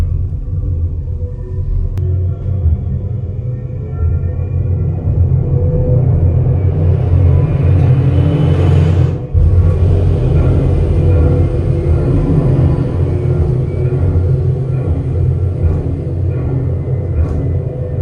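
A simulated spacecraft descent on an Epcot ride gives a loud, steady low rumble that surges briefly about halfway through, then settles into a continuous heavy roar, with no voices over it.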